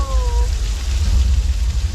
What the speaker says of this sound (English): This rain is a result of some sprinklers strategically placed at high points.